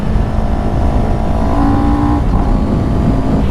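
A CFMOTO 700CL-X motorcycle being ridden, its engine drone steady and loud throughout with a rising tone as it pulls through the gears, no talking.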